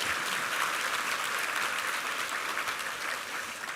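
Continuous applause from a large church congregation for a choir, steady and full throughout with no pauses.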